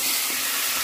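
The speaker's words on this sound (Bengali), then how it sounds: "তেল গরম হয়ে গেছে, এবার আমি ঝপাত করে এই ম্যারিনেট করে রাখা চিকেনটা এর মধ্যে ঢেলে দেবো" Marinated green coriander chicken hits hot oil in a pan, giving a loud, close, continuous sizzling hiss with no voices.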